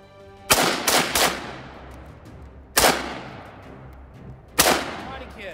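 An AK rifle fires three sharp, loud shots, the first a quick burst of three close reports. Two more single shots follow at intervals of about two seconds, each decaying into an echoing tail.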